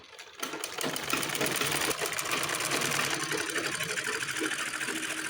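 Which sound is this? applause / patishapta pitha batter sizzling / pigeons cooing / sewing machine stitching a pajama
sewing machine stitching a pajama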